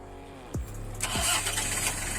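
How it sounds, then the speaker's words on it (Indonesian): Starter motor on a 2000 Toyota Kijang Krista with a freshly replaced battery cranks briefly, then the engine catches and settles into a steady, close idle. "Starternya juga masih greng karena ganti aki."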